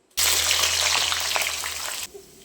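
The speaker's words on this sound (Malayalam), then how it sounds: "അതിലേക്ക് കുറച്ച് സവാള ഇട്ട് ഒന്ന് വറുത്തെടുക്കാം." Sliced onions hit hot coconut oil with a sudden loud sizzle that holds steady for about two seconds, crackling close by, then cuts away sharply to quiet.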